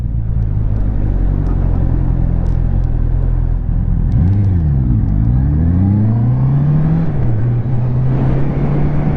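A Honda CB650R motorcycle rides up a hill, its engine loud and near, climbing and dropping in pitch as it revs through a gear change, then holding a steady drone with wind rumble and no talking.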